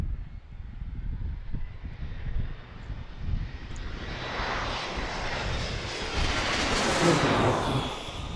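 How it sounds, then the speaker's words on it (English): A loud airplane arriving at DCA passes right overhead, its rumbling roar building into a rising, hissing jet whine that peaks near the end, with no voices. "Some very loud arrivals right over our heads."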